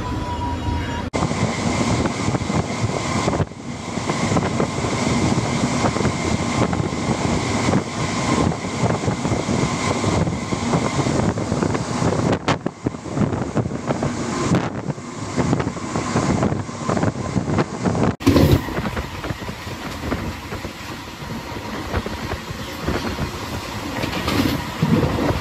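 A MEMU express running at speed between stations on the Chennai Central to Bitragunta line, with a continuous loud rumble of wheels on track and strong wind rush from inside the moving train throughout.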